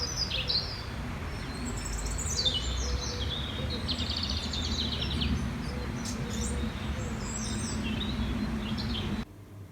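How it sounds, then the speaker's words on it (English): Several different birds chirp and trill at a distance over a low, steady outdoor rumble, calls overlapping from moment to moment. "See how many different types of birds you can hear."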